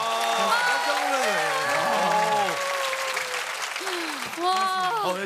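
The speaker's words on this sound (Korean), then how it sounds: "진짜 박수 한번 주시면 하겠습니다" A studio audience at a Korean comedy variety show claps steadily throughout, with loud voices and excited vocal exclamations riding over the continuous applause.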